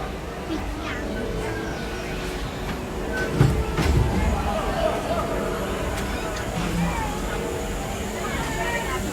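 A steam train on the Disneyland Railroad rolling steadily along the rails with a continuous rumble and rattle, soft murmuring voices in the background.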